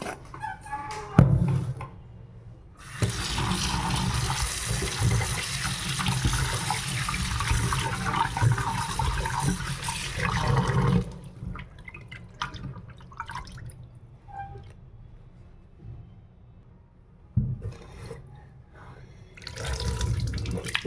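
Mutton keema is rinsed under a running kitchen tap, with steady gushing water in two bursts broken by quieter splashing and handling, close and fairly loud, with no talking.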